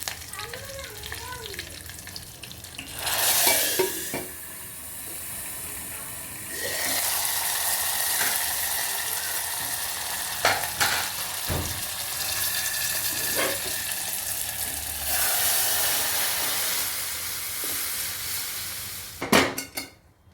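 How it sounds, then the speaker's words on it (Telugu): Lentils poured into hot tempering sizzle loudly in a pan for Telangana-style pappu charu, a strong steady frying hiss with stirring scrapes and occasional clinks of utensils, close and continuous with no talk. "ఇప్పుడు పప్పు పోసి బగడి చేసుకోవాలి"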